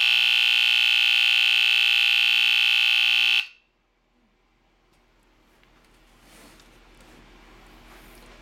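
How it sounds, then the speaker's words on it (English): An AC-powered smoke alarm with side vents and a horn vent sounds a loud, steady harsh buzz for over three seconds, then cuts off abruptly, leaving quiet room noise. "this one does a typical AC smoke alarm buzz"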